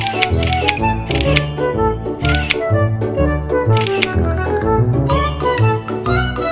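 Camera shutter clicks while taking a selfie, a series of loud, crisp snaps in quick bursts, repeating several times over a few seconds.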